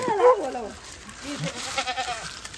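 Goats bleating at a farm in Florida, a few close wavering calls at the start followed by fainter bleats and animal noise across the rest.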